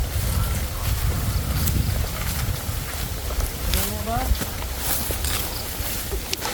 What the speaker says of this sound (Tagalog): Lakas hangin.